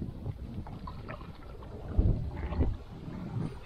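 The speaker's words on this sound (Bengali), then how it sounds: "এই জাল টানার সময় এভাবে আস্তে আস্তে নৌকা বাইতে হবে" A boat is rowed slowly through Sundarbans waters while a net is hauled, giving soft, low splashes and paddle strokes around the two-second mark over faint wind, without talk.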